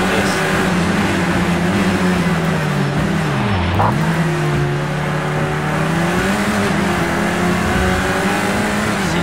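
Front-wheel-drive race car in Project Cars 2, its engine droning loud and steady throughout, pitch dipping briefly mid-way before climbing again as it accelerates, with faint tyre noise beneath and no talk.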